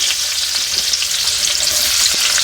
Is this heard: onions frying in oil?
yes